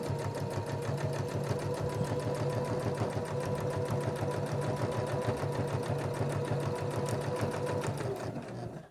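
A sewing machine runs steadily at speed, topstitching straight across the edge of a fabric glasses case, its rapid even needle rhythm continuing close and loud until it stops at the end.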